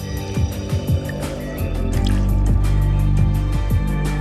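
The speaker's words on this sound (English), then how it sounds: "When the magician fills the glass with water, he must be careful to keep this hole covered." Real water is poured into a drinking glass with a small hole drilled near the bottom. Scattered drips come first, then a continuous close pour fills the glass for several seconds.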